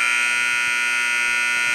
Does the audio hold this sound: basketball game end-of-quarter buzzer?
yes